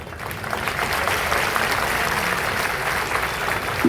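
Audience at a Sardar Vallabhbhai Patel Jayanti event in Etawah clapping steadily, a dense, even wash of applause from a crowd, sustained throughout.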